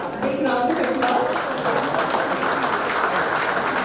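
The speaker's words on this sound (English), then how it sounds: "I request you all to give them all a big round of applause" Alumni at a golden jubilee meet give a big round of applause, a steady dense wash of clapping that fills the whole stretch, with some voices mixed in early on.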